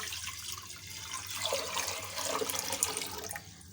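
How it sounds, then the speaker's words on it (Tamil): Water pours steadily into a pressure cooker in a home kitchen, a continuous close splashing stream lasting a few seconds with no talk over it. "அதுக்கு வந்து நான் இப்போது பத்து டம்ளர் தண்ணி சேர்க்குறேன்"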